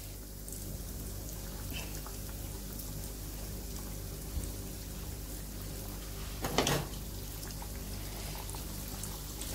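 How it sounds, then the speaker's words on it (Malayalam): Chicken pieces for Korean fried chicken sizzle steadily in hot oil over a medium flame, a soft, even crackle like light rain with a few faint clinks in the background. "നമുക്കിനി ഇതിലോട്ട് ചിക്കൻ പീസുകൾ ഇട്ട് കൊടുക്കാം"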